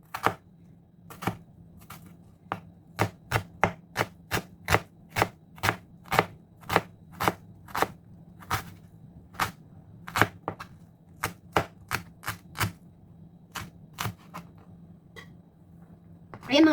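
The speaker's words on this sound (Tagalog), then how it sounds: "I-mince din natin ang ating sibuyas." Knife mincing onion on a cutting board, a run of sharp, irregular chops close up, some in quick bursts and others spaced apart, over a steady low hum.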